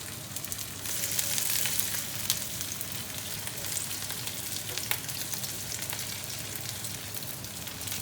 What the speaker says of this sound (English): Now I'll do the fish once it's cooled down in the oil.